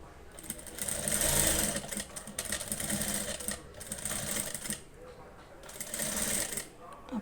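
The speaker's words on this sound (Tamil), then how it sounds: "இன்னொரு பீஸ் துணியை வச்சு அதே அளவுக்கு தையல் அடிக்கணும் அந்த தையல் போட்ட இடத்துலையே நம்ம அடிக்கணும்" A sewing machine stitches a piece of blouse fabric in several loud rapid bursts of mechanical rattling, separated by short pauses, close to the listener.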